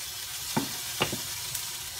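Beef stir-fry sizzling steadily in a pan, with a few short spatula scrapes and clinks standing out over the soft continuous frying hiss.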